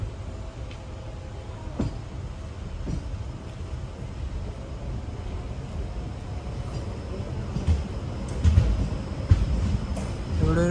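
Rajya Rani Express sleeper train at Varkala railway station in Kerala, a steady low rumble of rolling stock with occasional knocks and clanks, a brief louder surge near the end, and faint voices in the background.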